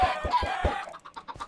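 Minecraft chickens cluck in a quick run of four or five short, close, fairly loud clucks, followed by a few softer, scattered ones, with no talk.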